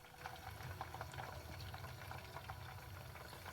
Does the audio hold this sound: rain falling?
no